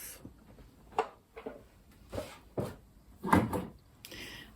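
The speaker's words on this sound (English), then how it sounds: "So to change the needle plate, we'll just open up here, take this off." Removing the needle plate of a Janome Horizon Memory Craft 9480 QC sewing machine gives a run of light plastic and metal clicks, taps and slides, close and quiet, spaced irregularly.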